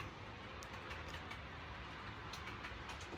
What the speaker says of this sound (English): as the train comes out the tunnel and around the corner